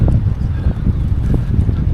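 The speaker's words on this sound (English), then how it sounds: "Fairly windy today again." Gusty wind buffeting the microphone with a low, uneven rumble, loud and close throughout.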